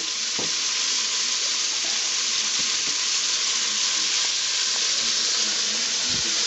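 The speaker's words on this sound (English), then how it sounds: "I just want to saute these onions and peppers up a little bit" Onions and peppers saute in a pan over a medium burner, a loud, dense, even sizzle and hiss throughout, with occasional faint knocks of the pan or spoon beneath it.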